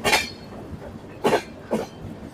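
Passenger train bound for Chennai running through rainy green countryside, with a steady low rolling rumble and three brief metallic clanks or squeals recurring at irregular intervals, nearby and moderately loud, no talking.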